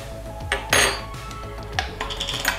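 Spoon scraping and clinking against a bowl while yogurt and sour cream are stirred together, a few separate knocks and one louder burst of scraping, close by with no talk.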